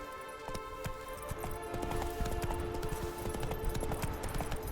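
Roach, a horse in The Witcher 3, galloping with a steady rapid clip-clop of hooves, close and continuous over a low game ambience.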